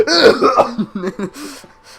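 A short, close burst of coughing and throat clearing, several rough hacks in quick succession that taper off, in a voice performance for Doki Doki Literature Club; likely a performer imitating the sound.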